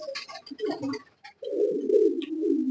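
Pigeons of fancy coloured breeds, including a blue-eyed hen, give a steady low cooing that runs unbroken through the second half, close by, after scattered softer calls and chirps early on.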